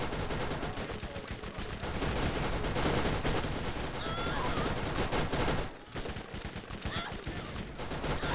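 Constant gunfire in Borderlands, a dense, loud barrage of rapid shots that cuts out briefly near the end before picking up again.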